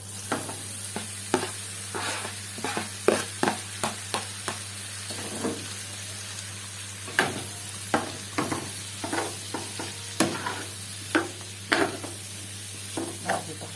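Boiled tripe is sautéed and browned in a large tray, with a loud steady sizzle broken by repeated sharp scrapes and knocks of stirring throughout.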